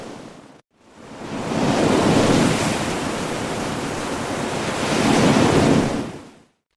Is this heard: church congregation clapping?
no